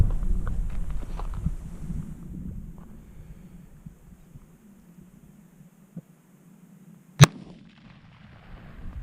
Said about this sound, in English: You shoot at the bottom target.